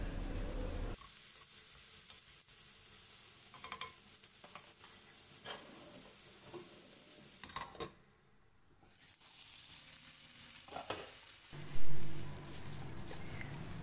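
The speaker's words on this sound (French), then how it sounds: "Je vais les faire revenir quelques minutes avant d'ajouter les autres ingrédients." Chopped vegetables, including green pepper, sauté in a hot pan with a steady, hissing sizzle broken by stirring scrapes, ending in a louder clatter.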